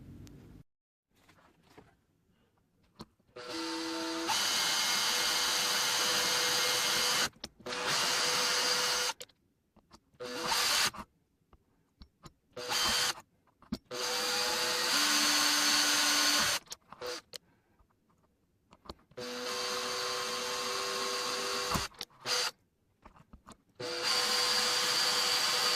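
A power tool bores into a wooden baseboard to widen a hole, running in several loud, steady whining bursts of a few seconds each, separated by brief pauses.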